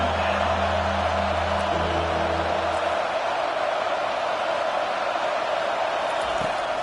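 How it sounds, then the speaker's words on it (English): A football stadium crowd roars steadily behind the defense on third down, a dense, loud wall of noise that holds without letting up. "Decibels rising as the crowd gets behind this defense on third down."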